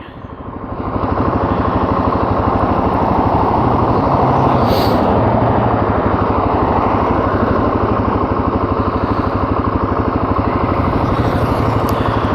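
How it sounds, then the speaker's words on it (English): A Kawasaki motorcycle engine runs steadily close by, a loud, even mechanical drone that holds without change for over ten seconds after a short rise at the start. "Nice Kawasaki right there."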